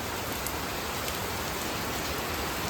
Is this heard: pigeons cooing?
no